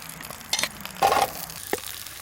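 Onions hitting olive oil in a pan on a camp stove give brief sizzling bursts, one short hiss followed by a louder fuller crackle and a small clink, fairly close.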